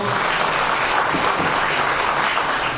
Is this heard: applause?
yes